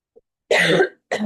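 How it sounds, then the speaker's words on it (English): Two harsh coughs, a long rasping one and then a shorter one, close to the microphone, with a faint tiny sound just before. "arms overhead triggered my cough."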